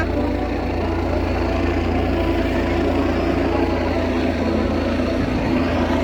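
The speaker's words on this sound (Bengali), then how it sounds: "হেলিকপ্টার উপর থেকে উড়ে যাচ্ছে।" A helicopter passes overhead on protection duty above the crowded bathing ghats at the Triveni Sangam during the 2025 Maha Kumbh Mela in Prayagraj, giving a steady, loud, droning engine rumble that holds for the whole stretch.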